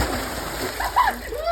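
Water splashes as people bathe outdoors at a farm at night, a short burst of splatter over steady flowing water while voices talk nearby.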